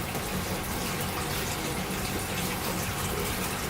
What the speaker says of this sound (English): I got the water running so I can wash my hands real quick